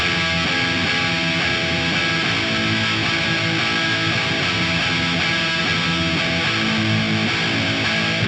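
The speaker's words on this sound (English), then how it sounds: "then you can do some dissonant chords" Heavy, distorted dissonant chords on an electric guitar tuned low to AADGBE ring out in a dense, sustained wall of sound, low and gritty, continuing steadily without pause.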